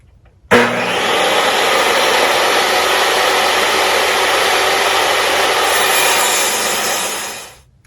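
A power saw rips wood pieces to width while building a desk and shelf, starting with a sharp onset and running loud and steady for about seven seconds close by before spinning down, with no talking.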